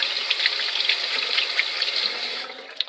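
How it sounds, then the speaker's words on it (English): Oil-covered hands washed under a running water tap, a steady close splashing stream that stops near the end with a small knock, no talking. "Wash my hands now because they're oil covered."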